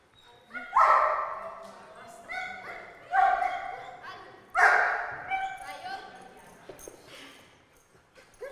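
An agitated dog barks and yelps in several loud, close bursts spread across the stretch, with people talking around it.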